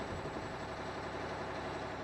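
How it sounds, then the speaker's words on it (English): A truck engine idles in Euro Truck Simulator 2, a steady low rumble that holds constant throughout with no speech over it. "Because I like the sound of this engine"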